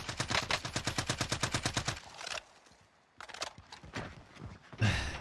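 Rapid automatic gunfire in the shooter game Warzone, a fast regular burst of loud shots for about two seconds, then sparse quieter shots and a final blast.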